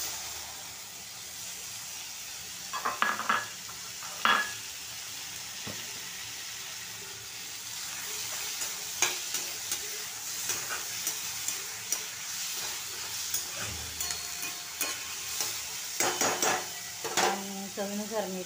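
Onions and tomatoes frying in a pan, a low continuous sizzle broken by scattered spoon clinks and scraping against the pan, some clusters of clatter near the middle and end, moderately quiet and close.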